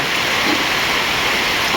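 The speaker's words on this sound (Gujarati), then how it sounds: "મેઘરાજા અત્યારે મન મૂકીને વરસી રહ્યા છે" Heavy monsoon rain pours down in a steady, dense hiss with no breaks and no voices.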